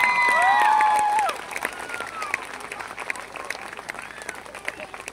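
At a kavi sammelan poetry gathering held as a success celebration, loud whistles and cheers open over a crowd's applause, then the clapping carries on more softly and evenly.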